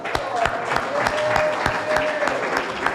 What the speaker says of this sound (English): Can we just give another round of applause?